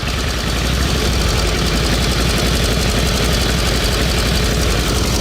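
Rare antique motorcycle engine, found behind a brick wall, idling steadily just after starting, a loud, close, even chugging purr that holds without pause.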